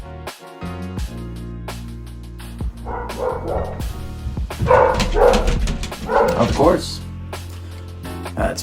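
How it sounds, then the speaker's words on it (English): A pet dog barks and yips in the background of a home office, with a few short barks mixed under a person talking and some background music. "That's my dog."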